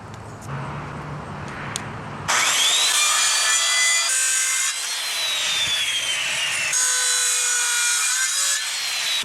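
A wooden board being sawn in half, likely with a jigsaw, begins after two seconds of quiet room noise; a loud, steady, high whine with shifting pitch runs continuously to the end, close by.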